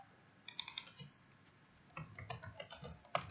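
Short bursts of typing on a computer keyboard while working in RStudio, close and fairly quiet, a few quick clicks, a pause, then a longer run of keystrokes.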